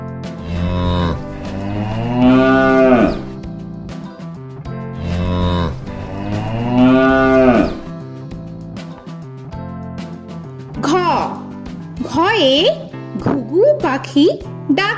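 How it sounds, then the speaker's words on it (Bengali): Two long, loud cow moos, one after another, followed by a voice speaking. "গয়ে গরু বাছুর দাঁড়িয়ে আছে"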